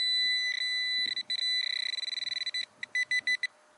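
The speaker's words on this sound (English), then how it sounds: "The Pro-pointer's audible and vibrating alarms increase in intensity based on the target's proximity." A Garrett Pro-Pointer metal detector sounds its alarm, a shrill electronic tone that begins as long held beeps, speeds into a rapid pulsing stutter, then breaks into a few separate beeps, close and clear with no talk.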